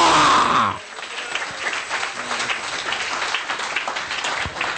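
A church congregation claps together during a worship service. A brief loud burst opens the moment, then sustained crowd applause rolls on evenly at moderate volume, with faint voices mixed in.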